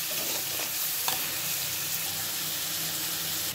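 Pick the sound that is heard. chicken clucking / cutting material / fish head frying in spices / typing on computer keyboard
fish head frying in spices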